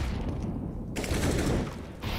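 Sawed-off shotgun blasts from Counter-Strike at a professional ESL Pro League grand final, heard as a dense burst of loud, close gunfire that fills most of the short clip, with a brief pause before more shots.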